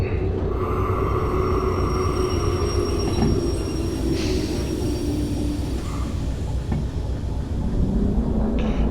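A train of boxcars rolls steadily through Derail Valley, a continuous loud low rumble of wheels on rails with occasional squeals and clacks throughout, no voices.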